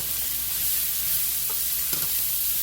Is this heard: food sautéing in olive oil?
yes